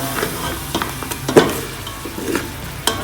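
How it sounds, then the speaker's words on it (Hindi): Whole spices, including cumin seeds and three whole green chillies, frying lightly in a pan for a mutton makhni handi, with soft crackling sizzle and occasional stirring clinks close by, no talking. "ये सारे जो मैंने स्पाइसेस डाले हैं इन्हें मैं फ्राई करूँगी हल्का सा"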